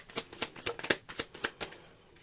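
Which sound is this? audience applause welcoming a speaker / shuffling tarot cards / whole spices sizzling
shuffling tarot cards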